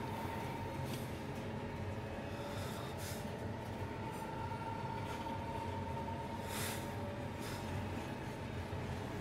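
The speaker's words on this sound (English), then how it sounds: "Not just free to roam about the train until it pulls into the station." A train in Final Fantasy XV rolls along with a low continuous rumble and faint wheel squeals, heard from inside the carriage at a quiet level.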